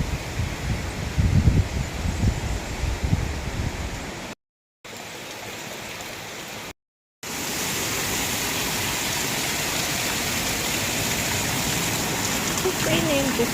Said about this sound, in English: It's raining just a little